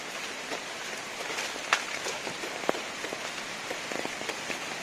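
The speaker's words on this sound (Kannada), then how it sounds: "ಹಾಗದ ಈಗ ರಜ್ಜ ಮಳೆ ಕಡಿಮೆ ಆತು" Steady monsoon rain falls on a coastal plantation in Karnataka, a constant hiss of drops on leaves and ground with a few sharper nearby drips standing out.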